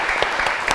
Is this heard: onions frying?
no